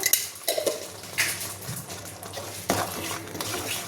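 Utensils scrape and clink against a pot as chicken sambar masala is stirred, a run of irregular close scrapes and light knocks with faint sizzling beneath.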